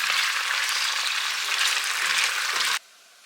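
French fries frying in hot oil make a loud, steady, dense sizzle that holds evenly for nearly three seconds and then cuts off abruptly to near silence.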